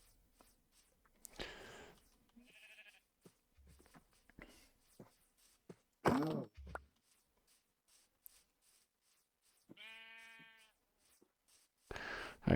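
Sheep bleating in a video game, a few separate, distinct bleats spread across a quiet stretch with small clicks and shuffling sounds between them.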